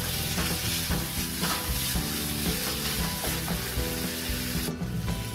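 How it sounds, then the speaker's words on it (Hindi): Kheel snack mixture with tomato and green coriander being stir-roasted in a pan over high heat, a steady close sizzle with continuous scraping and stirring, alone without talk. "आंच तेज करके इसको भूनेंगे और थोड़ा सा हरा धनिया भी इसमें ऐड कर देंगे और बस इसको चलाएंगे"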